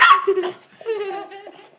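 A dog gives a short series of close barks and yips, with a strained, whimpering tone in the later part.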